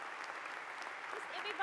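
An audience at a church community graduation gives the staff a hand, a brief, dense burst of steady applause from a crowd in a large room.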